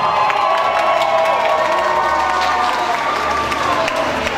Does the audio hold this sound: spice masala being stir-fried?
no